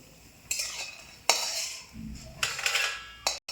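Bori lentil dumplings frying in white oil in a pan, with bursts of sizzling and clinks of a metal spoon stirring against the pan in a few sharp strokes.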